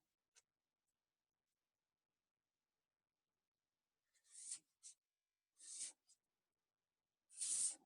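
Hand drawing of a geometry problem, short faint scratching strokes of a pen or chalk in a quiet room, a few brief strokes spaced apart.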